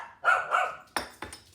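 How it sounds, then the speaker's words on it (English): Three Shih Tzus yapping in another room away from a kitchen, two longer muffled yaps followed by two sharp short barks, moderately loud and clear of speech. "when you have 3 Shih Tzus in the other room while you're in the kitchen, there's going to be a little bit of yapping"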